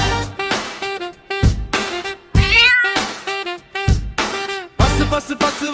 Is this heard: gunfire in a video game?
no